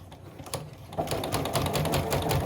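A sewing machine stitches a long-sleeve shirt in rapid, steady mechanical chatter. The stitching is close and clear and starts quietly, then runs louder and more evenly for the rest of the short stretch. No voices are heard.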